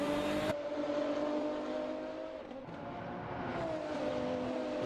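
A Formula Student race car runs along the track, its engine a steady buzzing drone that holds through a gear change and stays at mid distance.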